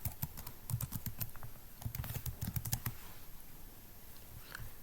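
Quick bursts of clicky keystrokes on a computer keyboard as a password is entered, close and fairly quiet, coming in uneven clusters with brief pauses, then tapering off into near silence.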